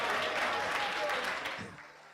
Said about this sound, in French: On applaudit pour mon quartier, s'il vous plaît